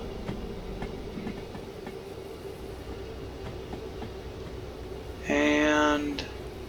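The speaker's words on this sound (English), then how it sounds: "locomotive remote, start slowing them down" Railway wagons being slowed by remote at an iron ore mine in Derail Valley, a low rolling rumble with faint clicks, ending in a short loud brake squeal near the end.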